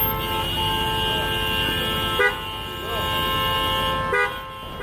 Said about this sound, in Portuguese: Trânsito, buzinas e muitos carros.